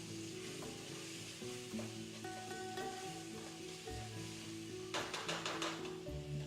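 Curry seasoned with salt sizzles and fries in a pan under steady stirring, with a constant crackling hiss, a hum in the background, and a burst of sharper scraping and clatter near the end.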